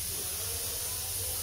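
A pressure cooker on the boil for khichdi, its seal gone bad, lets out a soft, continuous hiss of escaping steam that stays even throughout, with no talking.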